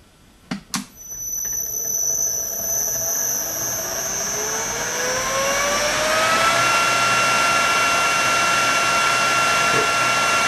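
An electric pottery wheel motor starts with a couple of clicks, then whines upward in pitch as it slowly accelerates to full speed, ending in a steady high singing tone over a constant hum.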